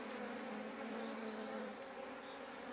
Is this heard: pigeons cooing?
no